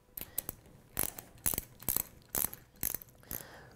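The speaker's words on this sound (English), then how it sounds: "with your 9/16 socket and ratchet is loosen the four retaining bolts that secure the rotating assembly" A 9/16 socket and ratchet loosening the retaining bolts on a Gorman-Rupp 2-inch T Series pump, clicking in short, close ratcheting bursts separated by brief pauses.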